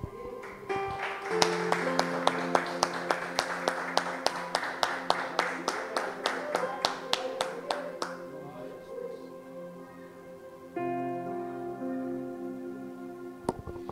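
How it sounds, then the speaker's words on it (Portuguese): A church congregation's many hands clap together in a steady rhythm over music, then the clapping stops and the music carries on alone. "E um aplauso ao Senhor."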